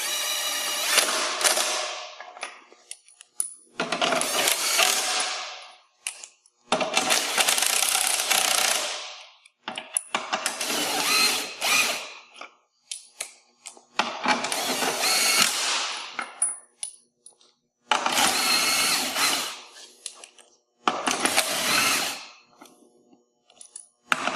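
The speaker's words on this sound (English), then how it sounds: "you're going to want to insert the nuts and tighten temporarily" Nuts being inserted and tightened by hand onto Track N Go tracks, heard as about seven separate bursts of metallic rattling and ratcheting, each lasting a second or two, with short quiet gaps between them and no talking.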